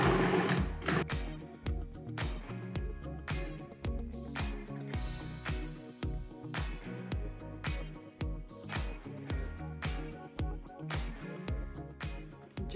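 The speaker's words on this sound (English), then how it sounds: "And put it in the food processor." A Cuisinart food processor chops potatoes and onion in a rhythmic series of pulses, each a loud whirring burst with clattering chunks, repeating steadily about once a second throughout.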